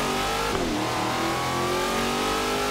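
A race car engine revs hard and climbs in pitch, a loud continuous roar with shifting tones, heard alone without voices, in the video game Forza Horizon 3 Hot Wheels expansion.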